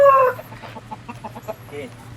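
A Thai native rooster gives a loud close call at the start, followed by softer clucks and rhythmic low vocal pulses, with faint background activity.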